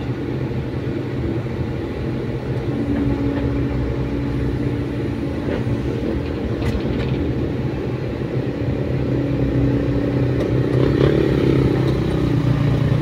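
A Volvo EC210 excavator with a low-power fault runs steadily while its boom jacks up, a constant low diesel rumble with faint mechanical clatter on top and no talk.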